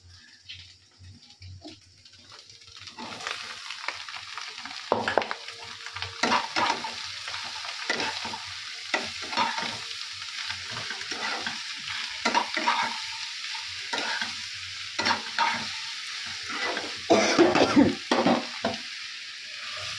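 Three eggs with spices frying in a pan at home, a steady close sizzle broken by repeated scraping stirs of a spatula, with no talk.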